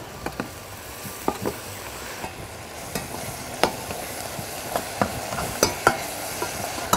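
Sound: stirring beef curry in oil in a pan

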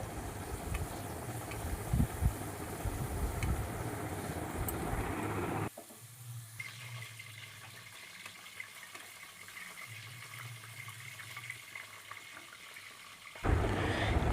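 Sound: potatoes frying in a pan

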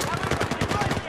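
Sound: gunfire in the video game Battlefield 3

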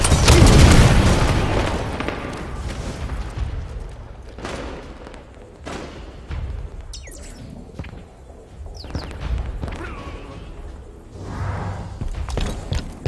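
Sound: grenade explosion in the video game Halo 5

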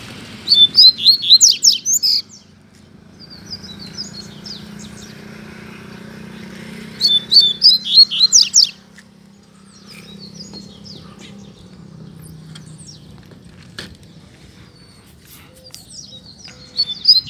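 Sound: coleiro (double-collared seedeater) singing

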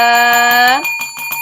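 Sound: subscribe notification bell ringing sound effect

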